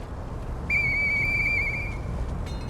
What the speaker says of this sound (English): A police whistle.